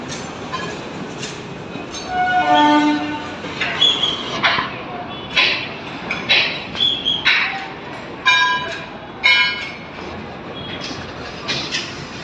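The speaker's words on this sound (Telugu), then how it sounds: "ఈ ట్రైన్ ఎంత హెవీగా ఉందో చూడండి." A heavy goods train rumbles past close by on a railway bridge in Anantapur, with rhythmic clanking and squealing from the wheels over a steady roar.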